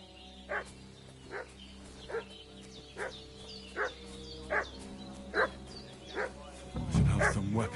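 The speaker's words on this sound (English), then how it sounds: "What's that dog making such a fuss about?" Dog barking in a video game, about eleven sharp barks at a steady, regular pace over a low hum, with a louder burst of noise at the end.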